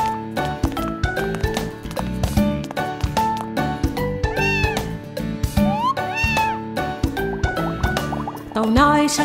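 Cat meows rise and fall a few times within a bouncy children's song about vehicles, set over plucky rhythmic music.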